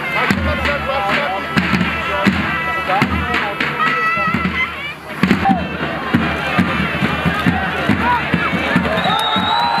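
Spectators at a Turkish oil wrestling event clap and cheer in a loud, dense burst, with rhythmic applause and shouts layered over an announcer's voice on a public address system.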